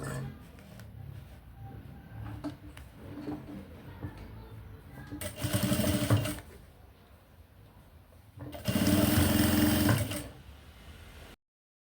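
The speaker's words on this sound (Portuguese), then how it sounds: "Você vai passar um pé de máquina aqui, ó." A sewing machine runs in two short bursts of about a second and two seconds while stitching a fabric document holder, with quieter handling noise in between and someone speaking.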